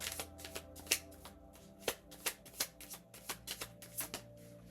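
A deck of oracle cards being shuffled by hand, a quick series of soft, close riffling snaps and flicks in uneven bursts, heard on their own without speech.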